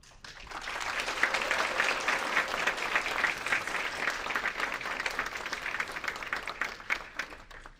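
Steady, loud audience applause filling a hall as the newly appointed TSA Deputy Administrator is welcomed at an in-person ceremony, holding level for several seconds without talk.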